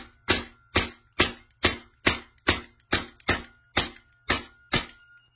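A gun firing a full magazine of 12 rounds, evenly spaced sharp loud shots about half a second apart, each with a short decaying tail, close and with no talking.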